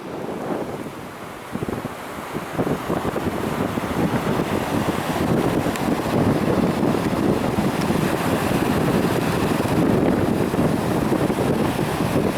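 Strong wind buffets the microphone on Omaha Beach in Normandy, with the continuous wash of surf beneath it, building after a quieter opening and staying loud and steady.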